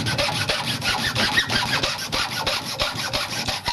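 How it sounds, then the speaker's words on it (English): A hacksaw cuts a slit down the middle of the end of a wooden stick, giving a steady run of rapid, rasping back-and-forth strokes that are close, fairly loud and continuous, with no talking. "a hacksaw blade will do to make the slit"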